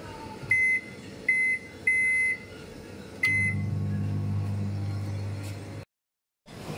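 A microwave oven running on micro-convection mode gives four short electronic beeps, the last followed by a low humming run of the appliance before the sound cuts off.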